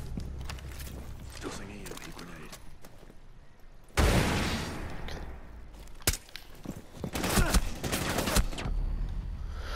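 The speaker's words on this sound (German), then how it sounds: "die Waffe klingt so dickerass" Gunfire in Rainbow Six Siege, sharp loud bursts and single cracks breaking through German chatter and game noise, with a heavy blast partway through followed by further rapid shots.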